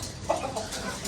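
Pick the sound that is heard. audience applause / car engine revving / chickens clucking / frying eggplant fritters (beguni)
chickens clucking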